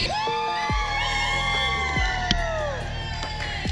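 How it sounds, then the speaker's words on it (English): Wedding guests cheer, whoop and shout together as a couple kisses during a portrait session, a loud, sustained crowd roar with high yells over it for several seconds. "everyone cheers, you guys kiss"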